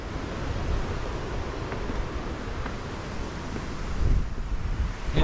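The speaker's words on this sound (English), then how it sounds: "Yeah, it's pretty windy." Steady wind gusts buffet the microphone on a mountain trail of the Tokai Nature Trail, a continuous broadband roar that swells slightly toward the end, with no voices.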